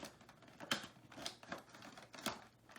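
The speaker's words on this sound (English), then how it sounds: "I like to use a nice X-Acto knife blade" Sharp, scratchy cuts from an X-Acto knife blade slicing around the clear plastic packaging of a Power Rangers action figure box, a few distinct strokes at close range with no talking.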